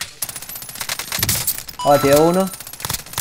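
Rapid gunfire crackles in a Call of Duty Warzone match, bursts of shots close and loud, with a voice speaking briefly in the middle.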